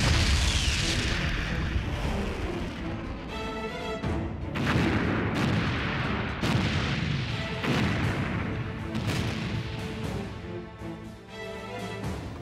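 Artillery gunfire in a Vietnamese-dubbed action film: dense, continuous booms and crashing blasts repeat throughout, loud and close, with no voices.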